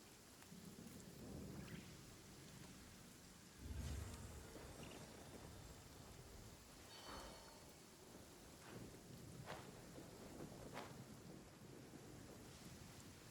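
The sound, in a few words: rain and thunder in a video game, Lantern Rite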